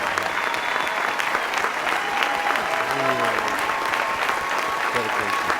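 A standing commencement audience applauds continuously, dense close clapping from a large crowd with a spoken voice and a few tonal sounds under it.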